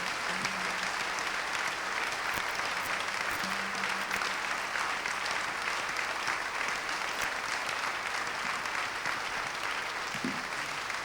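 A church congregation applauds the Lord, with steady, continuous clapping that fills the whole stretch at an even level, without pauses, and no voices rise above it.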